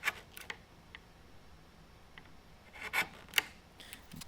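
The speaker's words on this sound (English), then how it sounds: "it's just quite a bit of chiseling to make that clean transition" Sharp chisel paring wood by hand, a series of faint, scattered scrapes and ticks with pauses between, close and quiet, shaping a clean transition along a sawn curve in a Shaker dresser.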